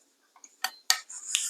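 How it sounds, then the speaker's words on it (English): A cocktail in a home bar stirred with a metal spoon, a few quiet ticks followed by three sharper clinks of metal against glass, close and brief, with faint rattling in between. "let's just give this a bit of a stir"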